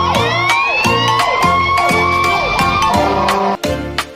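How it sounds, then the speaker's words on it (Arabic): A wailing fire truck siren rises and falls over loud, rhythmic music, with repeated swooping tones and a brief drop near the end. "هيا يا سيارات الإطفاء"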